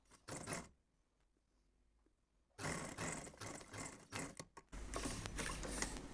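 A sewing machine stitches the back neck of a blouse in short close bursts, a brief run of whirring, a quiet pause, then longer rattling runs of stitching.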